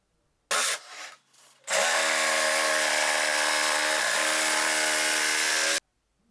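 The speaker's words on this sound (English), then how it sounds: "using a jigsaw, I'll connect the 2 holes together to cut the slot" A jigsaw cuts a slot between two drilled holes in a wooden router-sled jig, sputtering briefly before settling into a loud, steady buzz for about four seconds, then stopping abruptly.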